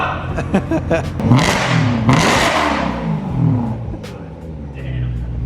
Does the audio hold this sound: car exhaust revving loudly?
yes